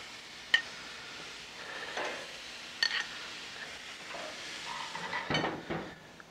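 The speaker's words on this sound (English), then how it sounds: "Sizzle time." Cod fillets laid onto a hot Napoleon Prestige Pro 500 gas grill, a faint steady sizzle with a few sharp metallic clicks and scrapes of a utensil against the grates, close and quiet.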